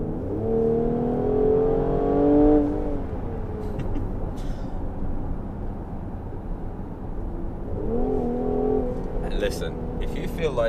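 A Mercedes-AMG GLC43 Coupe's 367-horsepower engine drones steadily and then revs up with rising pitch in Sport Plus mode, a voice talking over the sustained motor noise.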